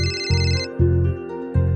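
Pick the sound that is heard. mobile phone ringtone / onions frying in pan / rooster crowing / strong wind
mobile phone ringtone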